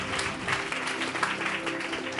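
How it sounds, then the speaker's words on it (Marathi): A church audience gives brief, dense applause for a sister, a steady wash of many hands clapping at once with faint crowd murmur underneath. "जरा सिस्टरसाठी जोरदार टाळ्या जात."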